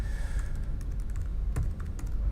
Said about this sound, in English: Oh, a lot of typing.